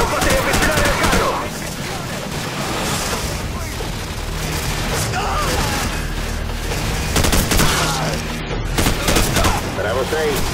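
Sustained machine gun fire in the Call of Duty 4: Modern Warfare swamp battle, continuous rattling bursts with booms and battlefield noise throughout.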